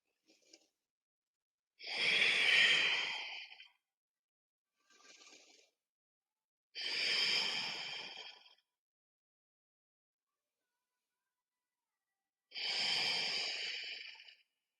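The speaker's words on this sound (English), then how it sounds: "Take 3 deep breaths here." Slow, deep breaths taken lying down during a stretching exercise class: three long, airy exhales spaced several seconds apart, with faint shorter inhales between them, close and quiet in an otherwise silent room.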